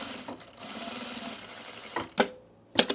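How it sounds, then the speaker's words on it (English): A sewing machine running steady double stitches along an overalls seam, a continuous whirring run followed by two short sharp bursts near the end. "I'm going to double stitch it just for the look."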